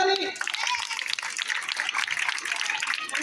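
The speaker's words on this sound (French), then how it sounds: "Applaudissez pour M. Wali." Children in a classroom applaud for a visiting environmental educator with a quick, dense burst of clapping right after a voice at the start, with the clapping continuing busy and close throughout.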